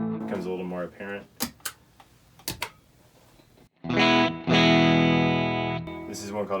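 Guitar through a Line 6 Helix Helisphere ethereal delay-reverb patch into a tube amp: sparse picked notes and sharp clicks give way to a loud, washy swelling chord that hangs and smears before new notes enter.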